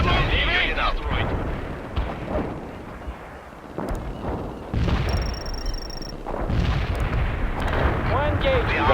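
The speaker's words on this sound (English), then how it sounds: "Firing a tight barrage at the target area." A tight artillery barrage pounds a target area in the real-time strategy game World in Conflict, with several heavy booms and rumbling blasts rolling in over nine seconds, mixed with radio chatter and unit voices talking throughout.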